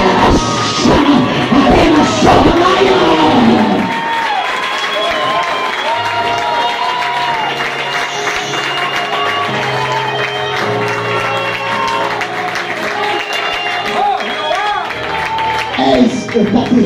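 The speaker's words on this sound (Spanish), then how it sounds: "Dando aplauso a Dios." A church congregation claps and cheers loudly at an evangelical service, with broadband applause and shouts under a preacher's voice, then settling into sustained crowd noise while talk continues.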